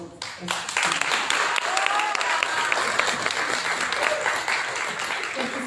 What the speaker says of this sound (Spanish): El aplauso